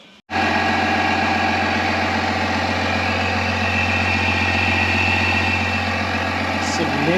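A 3.0 Duramax diesel idles with a K&N air intake and foam filter fitted, its steady loud drone and intake roar starting abruptly after a brief quiet moment and holding constant close by.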